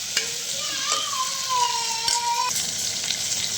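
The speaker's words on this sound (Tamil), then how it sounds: "இப்போ போட்டு நம்ம ஒரு தடவை லைட்டாக வதக்கும் போதே" Chopped liver sautés in a hot pan for a pepper gravy, giving a loud, steady, close sizzle with a thin whistling tone drifting over the frying noise.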